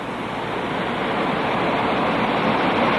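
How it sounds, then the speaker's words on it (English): Water pours steadily from a sewage treatment plant outfall in a large American city into a river, a loud, unbroken broadband rush of falling water with no voices. "This water pouring from a sewage treatment plant in a large American city clearly contains enormous quantities of detergents"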